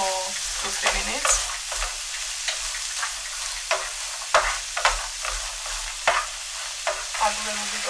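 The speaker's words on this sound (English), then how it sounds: "Heat a little bit of oil, add chopped spring onions, carrots and red chilies. Stir fry for 2-3 minutes." Spring onions, carrots and red chilies stir-fried in hot oil, a steady close sizzle broken by regular scraping and clacking stirs of the spatula against the pan, with no talking.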